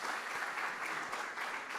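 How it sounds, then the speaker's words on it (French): Audience applause at the annual Tahiti Tourisme conference, a steady, moderately distant wash of many hands clapping together with no talk over it. "Ne m'applaudissez pas, c'est vous qui vous applaudissez maintenant."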